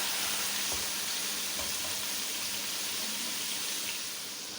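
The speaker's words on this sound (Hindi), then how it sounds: "5 मिनट तक इसे शैलो फ्राई करते हैं" Chicken shallow fries in oil in a karahi pan, a dense, continuous sizzle that stays loud and even throughout.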